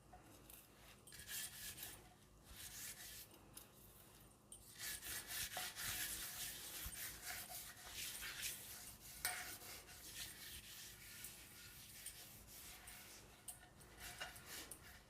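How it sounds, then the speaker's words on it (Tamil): An old clay pot being scrubbed inside and out with rock salt makes a soft, gritty rubbing and scraping in quick, uneven strokes, fairly quiet and close, with brief pauses between bursts. "நல்லா உள்ளரையும் வெளியையும் இந்த கல் உப்பு வச்சு நல்லா சுத்தம் படுத்தணும்."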